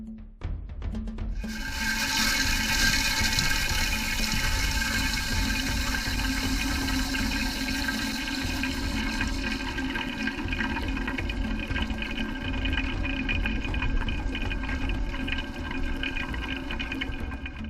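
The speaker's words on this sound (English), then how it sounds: "Fills faster than the old valve, and it sounds cooler" Toilet tank refilling through a newly installed fill valve, a steady hissing rush of water that starts suddenly and runs continuously, close and fairly quiet.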